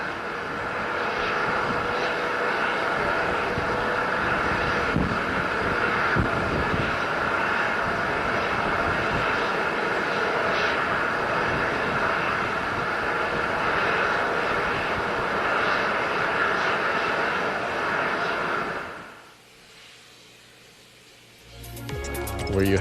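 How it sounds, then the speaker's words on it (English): A rocket launches with the Hope Mars Mission, giving a long, dense, broadband engine roar. It holds steady for about twenty seconds, then drops away sharply into near quiet. "Watched the rocket go up, Fahad."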